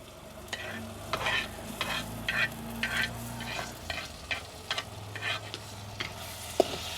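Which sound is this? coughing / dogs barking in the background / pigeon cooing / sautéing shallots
sautéing shallots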